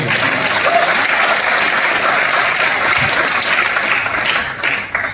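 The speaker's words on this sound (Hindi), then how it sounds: "जोरदार तालियां दोनों के लिए पहले बार." An audience at a business event breaks into loud, sustained applause, a dense wash of many clapping hands that stays steady and fades slightly near the end.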